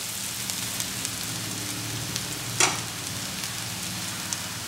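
Kolhapuri chicken masala fries in a pan with a steady, dense sizzle and a single sharp clink partway through, with no talking.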